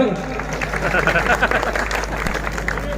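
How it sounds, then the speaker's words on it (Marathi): A crowd at a public felicitation event for a guardian minister claps briefly and unevenly, the patter mixed with chatter and a speaking voice in the hall. "टाळ्या वाजा."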